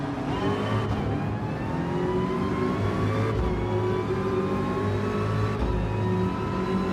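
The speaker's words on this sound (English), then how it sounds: "I'm driving a Ford GT Le Mans car" A Ford GT Le Mans race car engine in a racing video game holds a loud, steady high-pitched whine that climbs in pitch, with brief dips at gear shifts every couple of seconds under full throttle.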